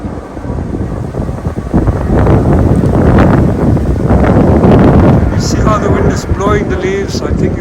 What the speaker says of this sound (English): I think you can hear the wind